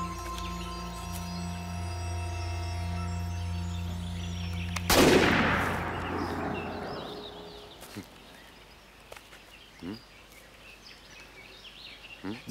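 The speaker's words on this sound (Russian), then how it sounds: "Не может быть, чтобы они выстрела не слышали." Single gunshot in a film set in a border woodland, a sharp loud crack that cuts through a steady hum and rolls into a decaying echo, followed by quiet outdoor ambience with faint bird calls.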